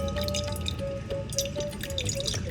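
Washed rice draining for papad-making, with steady close drips of water falling off the wet grains, a quiet continuous trickle without voices.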